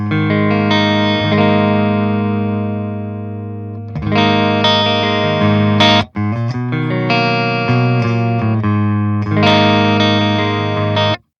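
Electric guitar through the dedicated clean channel of a Synergy amp, loud and alone, with sustained ringing chords and single notes that stop and restart a few times, ending in an abrupt cutoff.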